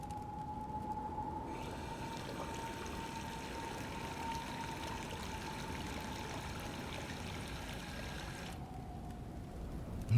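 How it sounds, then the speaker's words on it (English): In the indie horror game Whispering Fog, a sink faucet runs in a steady, soft stream for about ten seconds, with a faint tonal hum beneath the gentle splashing. "get some water from the sink"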